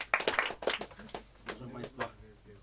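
A quick flurry of claps from a small audience at a live music gathering breaks out and then thins to a few scattered claps, with talking underneath.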